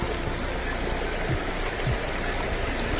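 A small, shallow river running low in the dry season, a tributary of the Narmada, babbles and trickles continuously at close range, a steady rush of water with no talking.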